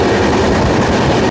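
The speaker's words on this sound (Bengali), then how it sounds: "এই দিয়ে দিচ্ছে ট্রেন হাওড়া পাটনা জনশতাব্দী এক্সপ্রেস।" The Howrah–Patna Jan Shatabdi Express rolls past close by, a loud, steady rumble and clatter of wagons that cuts off abruptly at the end.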